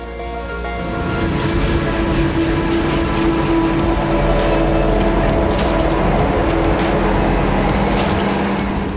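A John Deere forage harvester with a 24.2-litre, 12-cylinder Liebherr engine rated at 970 horsepower runs steadily, a loud continuous mechanical drone with a strong low hum that holds level throughout.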